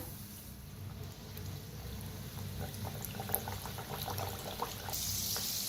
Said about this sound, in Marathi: तर आता दोन दोन सोडून आपण तळून घेऊया